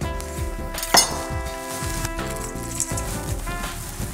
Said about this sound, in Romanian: Pisăm puțin, doar tăiem puțin, nu trebuie să tocăm foarte tare.